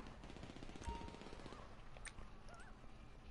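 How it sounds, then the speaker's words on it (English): Rapid gunfire in GTA Online, a burst of machine-gun-like shots with a louder single crack, sounding mid-distance under a rainy game ambience with faint background sounds. "I hear gunshots"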